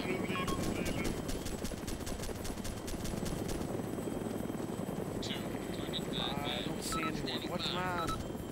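Rapid automatic gunfire rattles in the video game Arma 2: Operation Arrowhead, sharp repeated bursts over a constant droning helicopter rotor and wind, with someone talking over the action.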